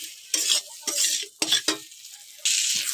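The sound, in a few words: spice masala with cauliflower and potato being sautéed in pan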